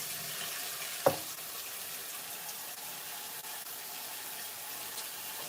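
Water running steadily into a kitchen sink during cleaning, a continuous close hiss and splash with one sharp knock near the start.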